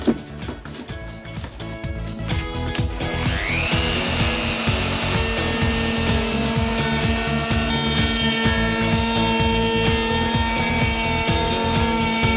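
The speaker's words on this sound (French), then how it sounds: "Un coup de défonceuse et on va essayer de chanfreiner tout ça." A wood router chamfering the edges of a rough-sawn plank, loud and close: a motor whine spins up, then holds a steady high cutting drone with a rapid pulsing texture throughout.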